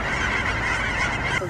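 A dense flock of cackling geese honks and cackles continuously, many overlapping calls, loud and chaotic.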